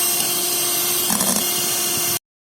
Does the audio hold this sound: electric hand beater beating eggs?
yes